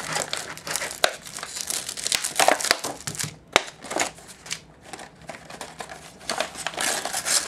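A plastic blister case from a D&D Attack Wing Wraith Expansion Pack is torn and crinkled open, with dense, crackling crumples and sharp snaps running close and continuously.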